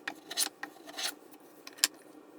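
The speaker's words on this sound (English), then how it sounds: "I'm just going to clean it up by putting it in there and planing it in place." Hand plane shaving a beech board from an old dovetail box, giving several short, close rasping strokes of uneven length with brief pauses between them.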